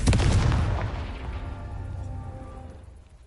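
A Confringo spell explosion in Hogwarts Legacy: one loud, close boom at the start that rolls off into a long, slowly fading rumble with no other sound.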